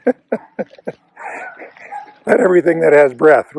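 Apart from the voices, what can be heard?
dogs barking in the neighborhood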